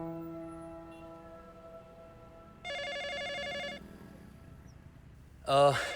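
A telephone rings faintly with a repeating electronic tone, followed by a louder burst of ringing; the setting is otherwise quiet, with a brief voice at the very end.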